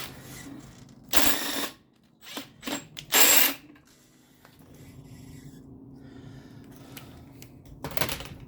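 A power tool drives a rear strut bolt on a 2004 Oldsmobile Alero in two loud, short whirring bursts with a few clinks between, then quiet garage noise and another brief rattle near the end.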